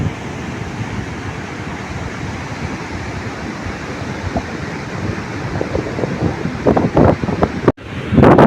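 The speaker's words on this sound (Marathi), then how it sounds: "पावसाळ्यातल्या लाटा बघा केवढ्या आहेत." Monsoon sea surf roars steadily on the beach at Guhagar, with wind buffeting the microphone and a few louder gusts near the end.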